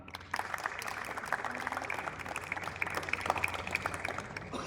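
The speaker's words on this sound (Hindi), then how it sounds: "एक बार जोरदार तालियों से स्वागत कीजिए हमारे बीच" An open-mic poetry audience claps steadily to welcome the next poet, with dense, continuous applause filling the space after a brief quiet start.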